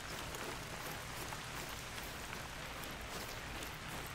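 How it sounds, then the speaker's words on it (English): Steady rain pours down in the hunting game theHunter: Call of the Wild, a dense, even hiss holding level and close for the whole stretch, with no voices over it. "And here comes the rain."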